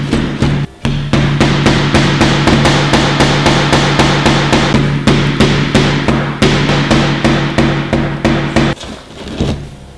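Rapid, relentless hammer blows drive a nail with a real metal hammer, dozens of loud, close, evenly spaced strikes with a sustained metallic ring and a couple of brief pauses, no speech.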